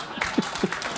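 A studio audience applauds in a brief burst of clapping and crowd noise, with voices mixed in over it.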